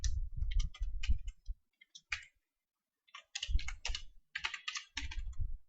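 Bursts of computer keyboard typing, close and fairly loud, come in quick uneven clusters broken by a brief pause, with no talking over them.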